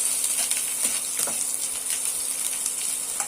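Slit green chillies dropped into hot mustard oil tempered with dried red chillies and mustard seeds, giving a steady close sizzle with light crackles and a few sharper pops, no voices.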